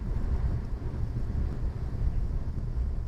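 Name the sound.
wind noise while driving on highway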